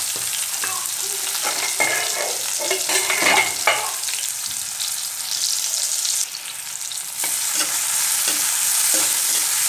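Chopped ginger, garlic and onion sizzle in hot oil with popped mustard seeds, stirred with a utensil scraping the pan; steady frying hiss with intermittent stirring clatter, close up, no voices.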